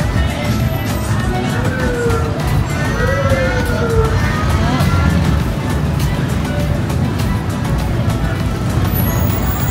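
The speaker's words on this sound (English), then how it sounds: "Look at the traffic." Busy traffic on Beach Road in Pattaya with scooters and cars, a steady roar of engines with a few horn-like tones, under people talking throughout.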